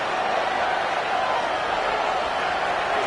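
Stadium crowd in a Madden or NCAA college football video game roars steadily as a third down approaches, a continuous wash of cheering noise with commentary likely under it.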